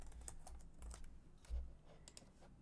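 Quiet keystrokes on a computer keyboard as a host name is typed during a server setup, a short uneven run of clicks with one heavier key press near the middle.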